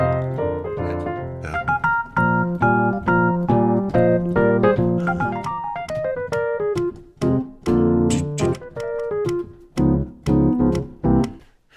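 Solo piano plays a soulful 1960s R&B passage, with rolling chords and bluesy runs, punctuated by short pauses.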